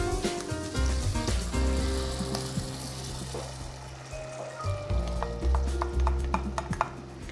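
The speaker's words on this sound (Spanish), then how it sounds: "Y este es el momento en que vamos a agregarle nuestro caldo." Broth poured into a pan of sautéed, translucent onions for a mushroom rice dish, a steady sizzle and liquid rush with spoon clinks and stirring scrapes, close and continuous with no talking.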